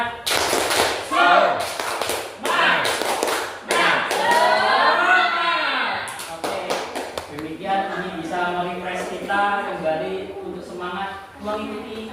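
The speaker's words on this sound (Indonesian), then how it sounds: "mari kita ice breaking dulu dengan melakukan tepuk semangat" Teachers and school principals at a training session doing a rhythmic 'tepuk semangat' group clap: bursts of patterned clapping alternate with loud chanted voices, and speech carries on over the last part.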